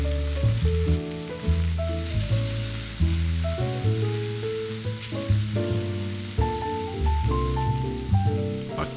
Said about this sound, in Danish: Først bruner jeg dem i lidt olivenolie.